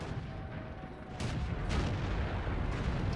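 A World of Tanks tank cannon firing, a deep booming blast followed by a second heavy report, loud over a continuous rumbling battle background.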